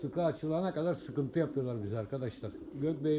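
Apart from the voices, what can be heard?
No everyday noise stands out behind the speech.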